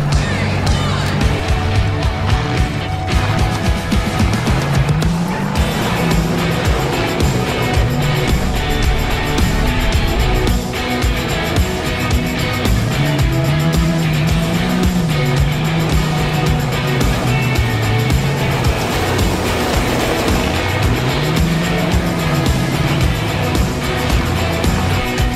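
An off-road kart built from a crashed 2001 C5 Corvette drives steadily nearby, its engine droning loud and continuous with rising and falling revs over rough wind and road noise.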